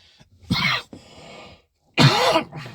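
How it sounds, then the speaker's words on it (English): Two sharp coughs from a person close by, separated by a brief pause, with faint background noise between them. "another unexpected cough"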